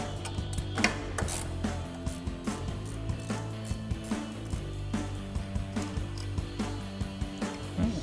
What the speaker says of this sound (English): we're gonna grab our ratchet and 10mm socket and take off our bolt that's holding on our bracket